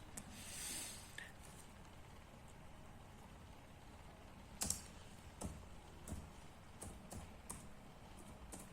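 Quiet keystrokes on a computer keyboard as a command is typed, with scattered taps and a few louder key presses over a hushed room background.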